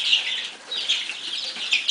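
A flock of young chicks cheeping and clucking continuously, a busy high-pitched chorus close by with no pauses.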